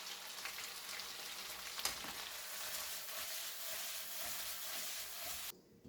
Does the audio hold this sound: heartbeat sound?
no